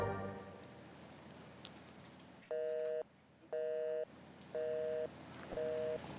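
Phone call ringing unanswered: four evenly spaced electronic ringback tones, each about half a second long, over faint background noise with no talk.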